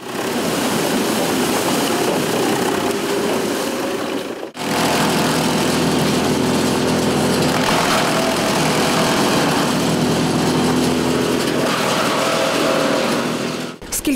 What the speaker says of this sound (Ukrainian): Тут дерева подрібнюють на тріску.